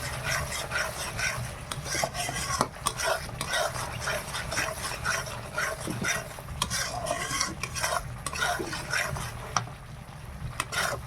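A ground poppy and melon seed paste stirs and fries in oil in a pan, with a steady sizzle and repeated scraping of a spoon against metal continuing throughout, loud and close.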